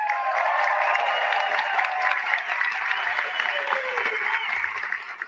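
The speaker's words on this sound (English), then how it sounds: "Can we have a round of applause for First Lady Melania Trump?" Sustained applause from a dinner audience at the Al Smith Dinner fills the room, steady and dense throughout, with a crowd murmur and faint voices mixed underneath.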